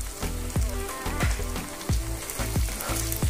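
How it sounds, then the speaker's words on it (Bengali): Ground turmeric, cumin, coriander and Kashmiri chili powder frying in a pan for Bengali katla fish head curry, a steady crackling sizzle broken by regular thumping strokes as the spices are stirred and scraped. "মশলাগুলো আমি ভালো করে কষিয়ে নিচ্ছি।"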